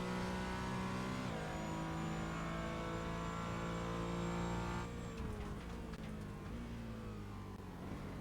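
A Porsche Cayman race car on the Zolder circuit, its engine droning loud and steady from inside the cabin, then shifting down with a rev change and easing off through a corner.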